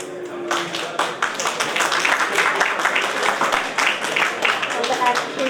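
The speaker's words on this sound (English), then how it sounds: "Please clap him." An audience at a community centre event applauds a child called up on stage, dense steady clapping from many hands close by that starts abruptly and keeps going.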